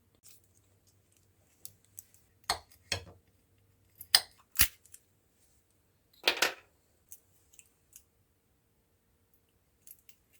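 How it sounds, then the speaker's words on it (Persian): Bananas and walnuts being chopped for a cake filling: sparse, crisp knife cuts against a board, a handful of sharp clicks and crunchy chops separated by quiet pauses, close and clean. "من برای فیلینگ کیک یا میانه کیکم از موز و گردو استفاده میکنم و میرم برای خرد کردنشون"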